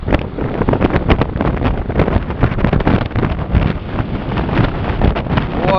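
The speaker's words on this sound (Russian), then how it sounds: "Ветер дует, конечно, паршивое видео будет." Strong gusts buffet the microphone outdoors on a windy Crimean morning at a campsite base, a loud, constant roaring rumble with no pause for the whole stretch.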